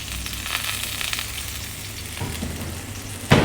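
Blackened snapper fries in a pan with a continuous close sizzle, a few scraping stirs under it and a sharper clatter near the end.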